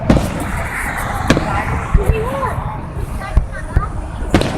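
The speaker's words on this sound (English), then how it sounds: "I'm just going to let you guys watch these fireworks because they're really good." Fireworks burst in the open air as a series of sharp, loud bangs and crackles at irregular intervals, with a person talking over them.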